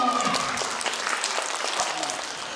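Audience applause after a magician's sorcery trick at a Christmas festivities show, a dense burst of clapping close by with a brief voice over the start, fading slightly toward the end.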